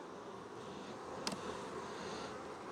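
Honeybees buzz softly and steadily at an open hive, a faint, even drone that holds throughout, with one brief click near the middle.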